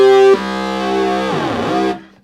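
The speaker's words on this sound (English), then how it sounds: "the reason why it's called a sync is because it has the two oscillators kind of sync together." A hard sync synthesizer tone with two synced oscillators, loud and alone, its harsh, rich timbre sweeping and shifting over about two seconds before it abruptly stops.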